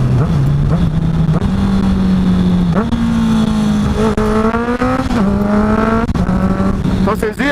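A car engine revving hard while downshifting gears, its pitch stepping up and down in stages with a loud, sustained drone and blips between shifts, someone talking over it.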